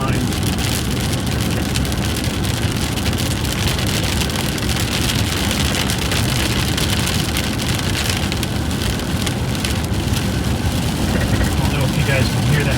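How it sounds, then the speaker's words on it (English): Steady, dense rain drums over a constant vehicle rumble, a loud broadband hiss filling the whole stretch without pause. "You guys can hear that rain."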